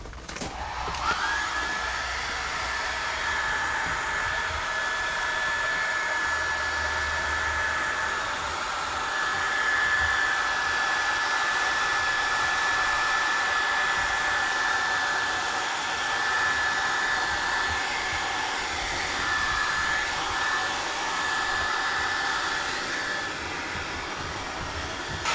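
A heat blower warms Kemimoto upper doors on a Can-Am X3, giving a loud, steady hair-dryer-like roar with a sustained high whine that holds unbroken throughout.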